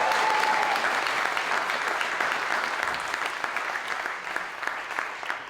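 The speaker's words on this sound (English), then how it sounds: "give Mr. Reichert a round of applause here" Concert audience claps for a musician at an instrumental show, a steady, moderately loud wash of applause that fades slightly toward the end, with no talking.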